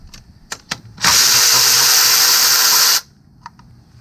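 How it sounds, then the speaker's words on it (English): An electric ratchet spins a nut off a 2014 GMC Acadia 3.6L engine during a timing chain job, one steady loud whirring burst of about two seconds with faint clicks of handling before and after. "I'm going to come back with my electric ratchet. Take off the nut"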